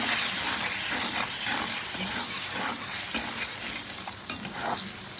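Chhana bara with turmeric and salt is stirred in a pan over a steady, hissing sizzle. Soft scraping strokes sound close by, ending with a couple of sharper utensil knocks.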